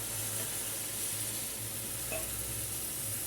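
Hot sugar syrup with lemon poured over freshly baked kunafa, producing a dense, continuous sizzle and crackle, close and steady throughout without any talk.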